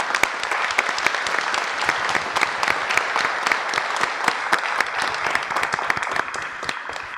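At a public commission meeting, commissioners and attendees applaud the staff for their hard work, a full, even round of clapping with crisp individual claps standing out, sustained and close.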